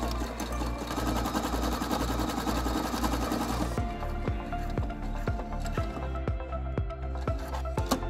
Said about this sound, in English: I sew the elastic band in place on a regular sewing machine using 3-point stitching